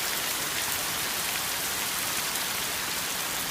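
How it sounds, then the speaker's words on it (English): Steady rain drums on the roof of a van, a dense, even hiss of drops with no pauses, close and fairly loud, and no voices. "Wasn't supposed to rain today."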